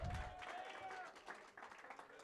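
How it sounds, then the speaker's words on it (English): Audience at an auction gives a round of applause, moderate crowd clapping heard fairly faint and distant, with a brief tone and some voices underneath. "How about a big round of applause for Miguel?"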